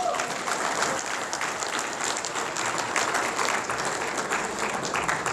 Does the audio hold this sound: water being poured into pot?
no